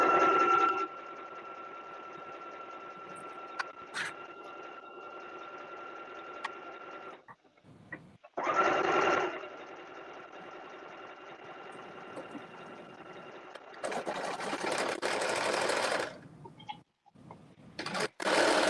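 A sewing machine sews a straight seam on a McCall's M8208 garment, a long steady run followed by shorter bursts of motor whirring with brief gaps and clicks, close and without talk.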